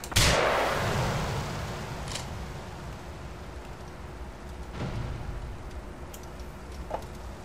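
An RPG rocket launcher in GTA 4 fires with a sharp, loud blast at the start and trails off into a rumbling decay, with a few fainter cracks and pops following in the distance.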